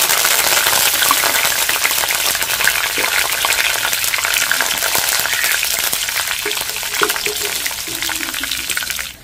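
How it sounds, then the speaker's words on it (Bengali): Curry leaves fry in hot oil for a crunchy peanut snack, a loud, dense crackling sizzle that holds steady from start to finish before cutting off abruptly. "তেলের মধ্যে দিয়ে দিচ্ছি কারি পাতা।"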